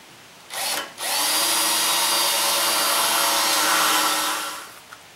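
A power drill bores 1/8 inch holes through a steel subframe tube for a Crown Victoria front-end swap into a '67 Ford F100, giving a brief spin-up and then a loud, steady whine held for about four seconds, close by.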